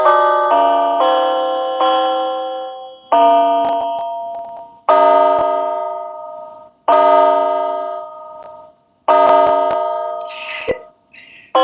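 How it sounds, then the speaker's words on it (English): Clock sound effects played on a synthesizer as a series of sustained chiming, bell-like tones, each struck note decaying slowly, about six loud hits in an uneven pattern with a few sharp ticks near the end. "I wonder if I can make something with the clock sounds."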